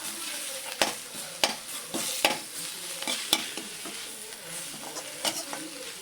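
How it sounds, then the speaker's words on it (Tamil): Drumstick (murungai) spinach leaves are stirred and separated in a pan, with about ten sharp spatula taps and scrapes at irregular intervals over a low sizzle; no one speaks. "இதை நம்ம கொஞ்சம் பிரித்து பிரித்து விடணும் இல்லாட்டி அப்படியே கட்டி கட்டியாக ஆகிடுற மாதிரி ஆகிடும் கீரை"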